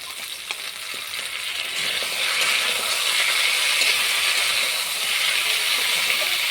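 A paste of ground ginger, cumin and chili hits hot oil with onions in a pan, giving a steady, loud sizzle and crackle that builds slightly and holds throughout with no voices.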